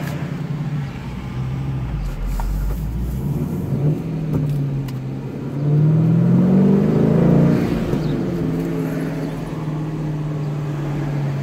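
Engine of a 2011 Dodge Challenger R/T heard from inside while driving, a low rumble that swells into a louder accelerating pull midway, then settles back to a steady cruise.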